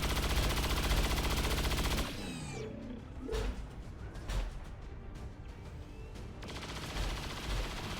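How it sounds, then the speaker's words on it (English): Sustained automatic gunfire from cyclic fire in XCOM 2, loud and dense for about two seconds, then giving way to quieter scattered impacts and rattling effects before another burst of noise near the end. "cyclic fire was the right option"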